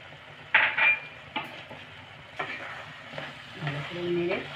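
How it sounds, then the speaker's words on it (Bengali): Carrot halwa with cashews and raisins being stirred in a pan, with faint sizzling and several quiet scraping strokes of a spoon against the metal. "ভালো করে নেড়ে মিশিয়ে নেব"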